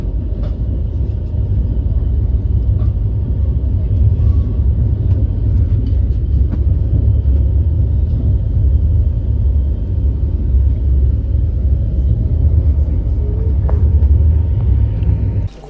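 Heard from onboard the Tejas Rajdhani Express between New Delhi and Mumbai Central, the train rolls into Kota Junction. A steady, heavy, low rumble carries on throughout, with faint clanks and no talking.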